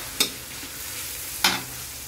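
Garlic and onion sautéing in hot oil for pinakbet, an even close sizzle punctuated by two sharp spatula scrapes against the pan, with nobody speaking.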